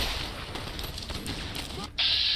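Rapid 9mm SMG gunfire in the Fallout: New Vegas video game, a dense continuous burst of shots set in a noisy gunfight, with a sharp bright tone cutting in near the end.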